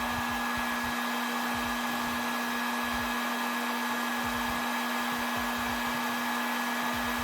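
A heat gun blows hot air onto chrome vinyl wrap on a B.C. Rich guitar, a continuous steady whooshing hum with a fixed tone, close and unbroken throughout.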